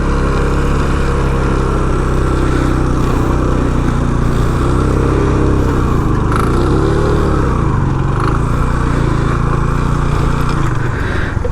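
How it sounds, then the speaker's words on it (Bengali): A TVS Apache RTR motorcycle rides through sand, its engine a loud, close, continuous roar that swells and strains steadily for the whole stretch, with no voices over it. "এই হচ্ছে বালিতে অ্যাপাচি RTR 2B অবস্থা।"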